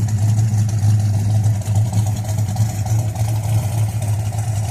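A Ford Boss 351 V8 with factory mufflers idles nearby, a steady low burbling rumble with a lumpy, pulsing beat that carries on throughout with no talk.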